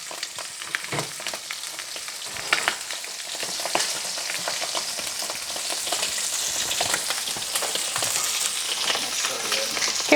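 Blackened trout frying in hot oil in a pan: a steady, close sizzle and crackle with occasional spits and pops, building slightly louder over time and heard on its own without talk.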